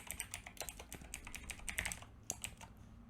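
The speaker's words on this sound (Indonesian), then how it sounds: "Lalu kita ketikkan attribute type sama dengan password." Rapid, close keystrokes on a computer keyboard, clicking in quick uneven bursts with a few brief pauses, fairly quiet and with no voices.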